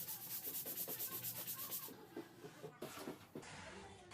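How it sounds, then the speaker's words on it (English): A floor scrubbed with a squeegee brush and Flash cleaner, giving a quick rhythmic run of rough, close strokes that turn into slower, irregular rubbing and scraping, fairly faint with a background hiss. "I am giving the floor the biggest scrub"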